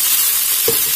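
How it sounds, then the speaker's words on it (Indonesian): Ground spice paste sizzles steadily in hot oil, a bright continuous frying hiss with one short stirring scrape near the end; no voices. "Ini bumbu akan saya tumis sebentar hingga aromanya itu keluar"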